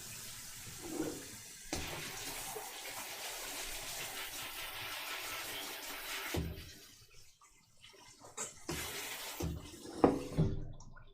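Tap water runs steadily into a sink while a blender top is rinsed out during liver pâté prep in a home kitchen, a continuous wash of water broken by brief pauses, clunks and splashes near the end.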